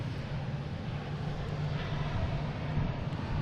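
A JetBlue jet on approach to land on runway 4 left at Boston Logan, arriving from JFK, gives a steady, fairly loud engine roar with a low hum that holds evenly throughout, with no talking.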